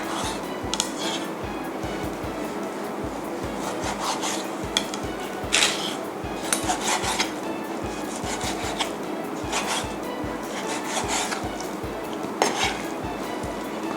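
A knife slices repeatedly through beef tenderloin on a cutting board, steady rhythmic strokes with soft rasping and occasional sharper knocks, close by.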